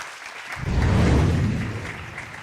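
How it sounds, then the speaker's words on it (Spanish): Audience applause before a scientific talk on luminescent materials, a burst of clapping with a low rumble that swells after half a second and holds steadily, fading slightly at the end. "Un aplauso."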